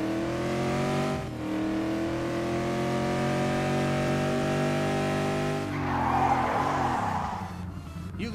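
A BMW in the game Gangstar Rio with its engine revving hard and a steady rising drone, then a loud screech of skidding tires near the end.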